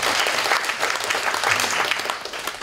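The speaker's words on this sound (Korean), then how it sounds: "우리 박수로 한번 감사드리겠습니다." A high-school youth congregation at a church service breaks into warm, continuous applause, a dense wash of many hands clapping at once that holds steady throughout without a break.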